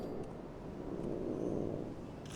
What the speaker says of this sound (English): and a little purr.